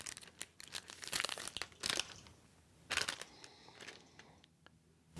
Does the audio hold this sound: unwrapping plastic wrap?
yes